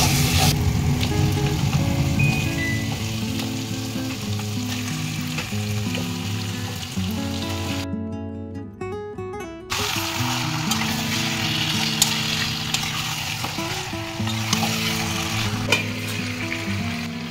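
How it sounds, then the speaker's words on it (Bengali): Spice masala of salt, turmeric and Kashmiri chili powder fries hard for Bengali chicken kasha, a loud continuous sizzle with repeated stirring scrapes that briefly drops out midway, then resumes just as strong. "মশলাটা কষাতে থাকবো।"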